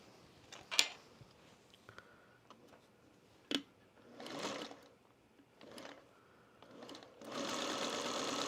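Sewing machine stitching while snowballing a corner, with short bursts of rapid stitching separated by quiet gaps and clicks, then a longer steady run at the end, close and clear with no talking.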